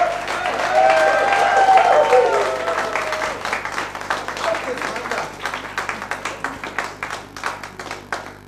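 Audience at a German TV music show applauds a band, clapping swelling under a presenter's voice then thinning into scattered, rhythmic claps that taper off.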